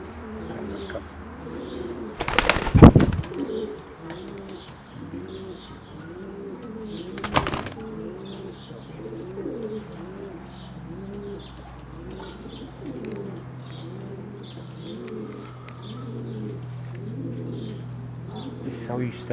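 Young tame pigeons coo steadily in a soft repeating rhythm, close by, with two sharp bursts of wing flapping early on and light chirps over a faint background hum.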